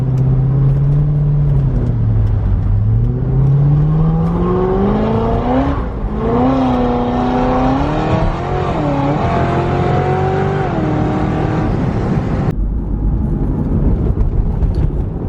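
A Corvette accelerates hard with the engine note climbing steadily through the revs and shifting through gears, loud and continuous from inside the car with no voices.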